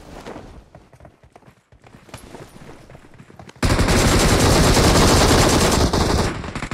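Sustained automatic gunfire in PUBG Mobile, a loud, dense burst of rapid shots that erupts after a few seconds of quieter movement and scattered pops, then continues without pause.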